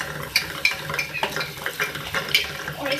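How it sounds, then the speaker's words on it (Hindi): A spoon stirs yogurt and onion paste into egg korma in a pan, with repeated scraping clinks against the metal and a soft sizzle underneath, close and steady, with no talking. "इसको अच्छे से मिक्स कर लें।"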